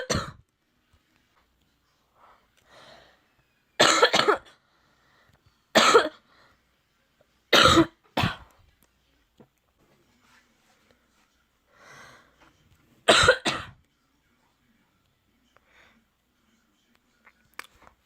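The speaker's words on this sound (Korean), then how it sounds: "아, 기침 엄청 많이." A girl coughs repeatedly in short, separate bursts spread through a quiet room, several fits of two or three coughs each, close and fairly loud, with faint throat sounds between.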